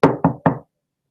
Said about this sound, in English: It never hurts to knock.